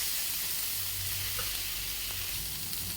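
Coriander powder frying in a pan of spices for a banana flower curry, a steady close hiss of sizzling oil that holds evenly without pause.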